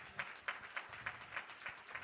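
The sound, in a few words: audience applause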